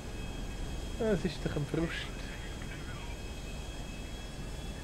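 An airplane engine drones steadily in GTA 5 Online, a constant mid-level hum throughout while someone speaks briefly over it.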